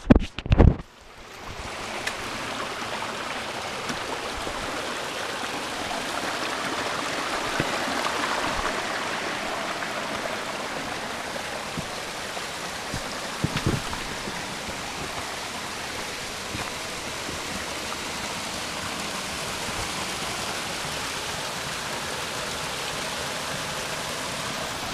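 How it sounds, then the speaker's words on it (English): A two-tier waterfall about 30 feet high, framed by rock walls in a steep valley on Adelaide Brook, Cape Breton Island, gives a steady, broad rushing roar that stays constant and fairly close throughout, with no talking. "there's a nice fall here just ahead"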